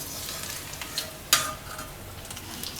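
Parwal kofta frying in hot oil, a steady close sizzle with a sharper spatter or stir clink partway through and no talking.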